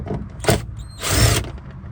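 Power drill backing screws out of a fuel pump cover on a Honda Del Sol: two short whirring bursts, the second longer, close and loud with no talk.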